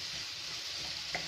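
Dry prawn mango curry with onion and tomato sizzles in a pan, a steady loud hiss broken by a soft scrape of stirring near the end.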